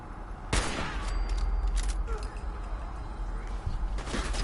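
Gunfire in the video game Fallout 4, a loud shot followed by further scattered shots and crackling combat noise, with someone talking over it.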